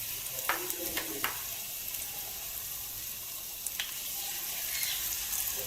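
Spoonfuls of pakora batter of potato and gram flour frying in hot oil, a steady bright bubbling sizzle throughout with a few sharp clicks of a spoon, close and even.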